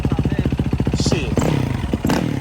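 A Yamaha WR450F dirt bike engine thumps and revs close by, rapid pulsing exhaust beats rising and falling in quick throttle blips with a brief clatter.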